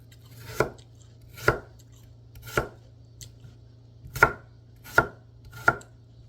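Six sharp, separate knife strikes on a cutting board while an apple is diced into bite-size cubes, close and clear with short pauses between cuts.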